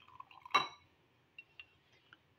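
Beaten coffee is poured into a glass already holding chocolate syrup for a cold coffee: one short, close splash, followed by a few faint glassy clinks and drips in a quiet room.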